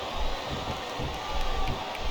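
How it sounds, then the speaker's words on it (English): A capacity WWE Armageddon crowd roars through a mixed casket match between Umaga and Candice Michelle, a continuous loud arena din of cheering and shouting that swells slightly in places. "This capacity crowd is making their opinions known tonight."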